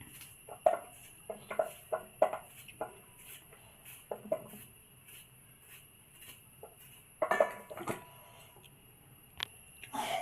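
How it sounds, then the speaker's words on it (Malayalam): A knife cuts slippery jackfruit seeds on a board, making quiet close taps and short clicks in irregular bursts, with pauses between the groups of cuts. "ഇതിനോടൊപ്പം തന്നെ കുരുവും ഞാൻ കട്ട് ചെയ്യുന്നുണ്ട്."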